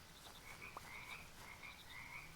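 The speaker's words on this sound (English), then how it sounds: "These frogs aren't very loud at all." Soft, repeated frog croaks from a video game, a few brief chirping calls spaced across a quiet background with no talking.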